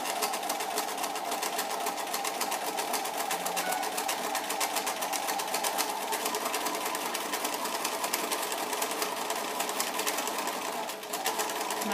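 A sewing machine runs steadily while stitching a felled seam, a fast even needle rattle that carries on close and unbroken for the whole stretch, with no talk.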